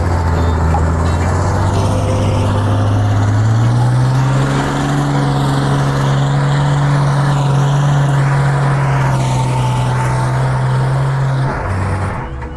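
A six-wheel dump truck engine rumbles loud and close, its low drone rising slightly in pitch and holding steady before easing off near the end.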